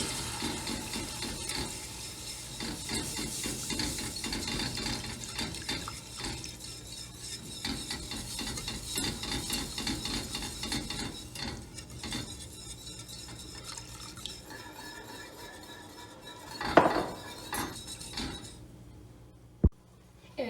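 A spoon stirs milk into béchamel sauce in a pan, giving a continuous soft scraping and swishing close by, with faint clinks near the end.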